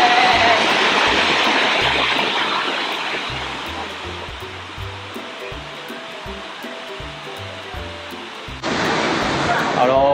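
The second tier of a waterfall in Nantou, Taiwan, gives a loud, steady rushing roar. It eases slightly in the middle, then surges louder near the end, with faint low knocks scattered underneath.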